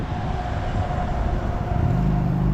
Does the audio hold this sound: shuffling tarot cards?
no